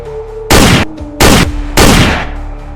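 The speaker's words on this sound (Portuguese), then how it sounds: "O coronel disparou 3 tiros, em pontos distintos." Three loud, booming gunshots, evenly spaced, each with a short echoing tail, over a low background hum.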